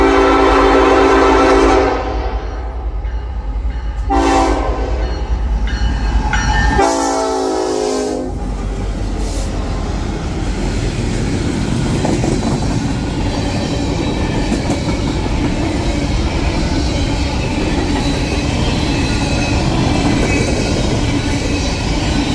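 Norfolk Southern freight NS-47A, with a BN Executive Mac locomotive, blows a loud horn in a couple of blasts, then passes close with a heavy, steady roar and rumble of cars rolling by.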